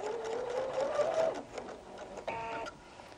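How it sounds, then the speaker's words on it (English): A sewing machine stitches across the top edge of a tape, its motor whirring in a steady run that rises in pitch. After a brief lull comes a shorter burst of stitching, heard up close with no talking. "I'm just going to sew across that top of the tape edge"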